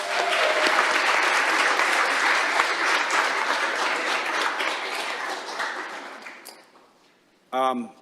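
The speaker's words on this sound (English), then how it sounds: "Round of applause." A city council meeting audience applauds a state Division II champion team, sustained dense clapping that gradually tapers and dies away near the end, followed by a brief voice.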